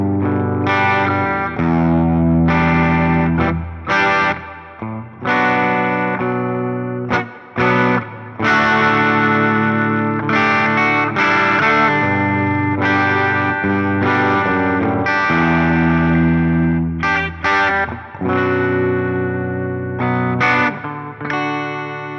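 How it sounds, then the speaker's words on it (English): An electric guitar played through a Fender Tone Master Pro's modulated large hall reverb at default settings, with sustained chords and notes trailing into a wide, shimmering wash, loud and alone with no voices. "let's check out the modulated large hall reverb at default settings"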